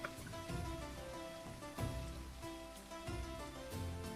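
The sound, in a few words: rain in the video game Bastide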